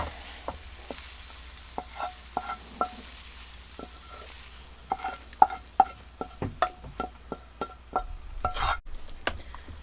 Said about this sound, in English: Alright, we mix it up really good.